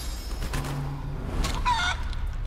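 A chicken clucks and crows in the video game Divinity Original Sin II, a few squawking calls over a steady low game background hum, moderately loud and alone.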